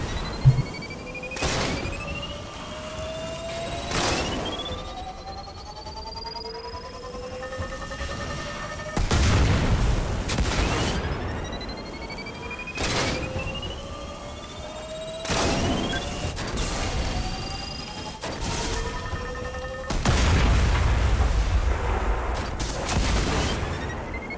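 A video game Scorch Cannon's rising whine charges up before each heavy explosive boom, repeating about five times in a steady cycle of building tone and blast.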